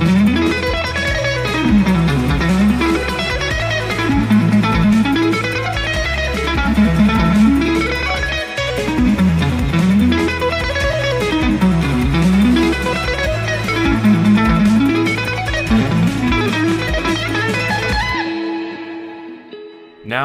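A processed electric guitar plays the fast arpeggio section of a song, with rising and falling note sweeps over a sustained low bass, continuous and loud before stopping near the end.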